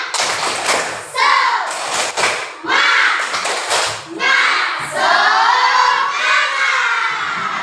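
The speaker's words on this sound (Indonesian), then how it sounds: "Kita tepuk semangat dulu ya, semua semangat. Tepuk semangat." A class of children does a rhythmic spirit clap in a classroom, bursts of group clapping and shouting in patterned beats, loud and close, with a teacher's voice between.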